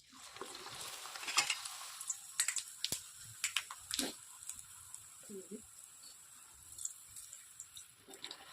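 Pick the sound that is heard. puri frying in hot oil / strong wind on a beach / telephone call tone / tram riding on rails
puri frying in hot oil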